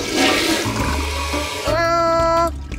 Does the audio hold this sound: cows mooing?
no